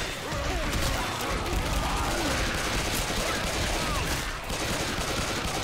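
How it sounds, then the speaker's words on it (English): Rapid pistol fire in a zombie shooter game, dense bursts of shots over chaotic combat noise, continuous and loud throughout, with faint voices mixed in. "I have to use the pistol."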